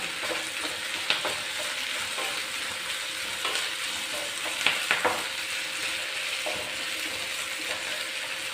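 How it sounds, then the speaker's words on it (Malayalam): Curry leaves, ginger and garlic sautéing in a pan for a beef pickle, a steady sizzle with occasional scraping stirs and light clinks, close and moderately quiet, with no talk. "കറിവേപ്പില ഇത്രയും ചേർത്ത് നന്നായി വഴറ്റിയെടുക്കാം"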